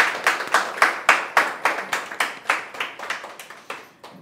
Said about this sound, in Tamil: அவங்களோட பெரிய கரகோஷத்தை